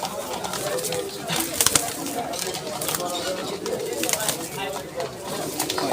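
Pigeons at a Bangladeshi pigeon market, with busy cooing and fluttering mixed into a crowded, noisy background while people haggle over birds nearby.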